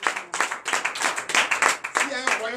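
Rhythmic clapping from a church congregation acclaiming Jesus during a night service of deliverance and prophecy in Comé, Benin, with steady repeated claps and voices mixed in.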